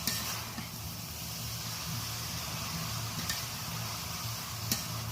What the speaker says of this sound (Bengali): বাঁধাকপিটা এবার ভালো করে নেড়ে নিচ্ছি